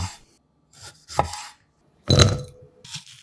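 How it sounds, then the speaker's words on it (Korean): A knife slices cherry tomatoes in half on a cutting board, giving a few close, separate cuts and board knocks with brief pauses between them, one of them heavier than the rest, with no voices. "방울토마토 10개는 반을 갈라주는데"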